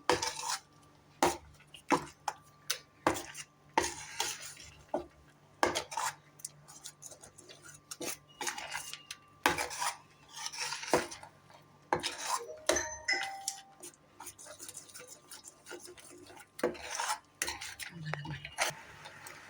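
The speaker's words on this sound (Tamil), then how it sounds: "இப்போ நான் ஒரு 5 நிமிஷம் நல்லா கிளறிட்டோம்" A spoon stirs gooseberry candy with jaggery in a metal pan, producing frequent sharp clinks and scrapes in an uneven rhythm, close and fairly loud, with occasional faint background sounds.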